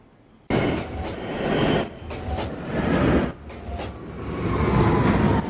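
A downtown 2 express train on the New York City subway roars into the station with a sudden loud onset, then holds a rumbling, rattling din as it pulls along the platform.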